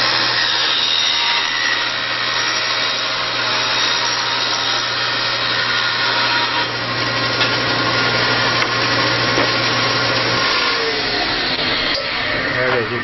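A power saw cuts wood against a rib fence, a loud, steady whining drone with a rough cutting texture, then the motor is shut off mid-cut and spins down near the end.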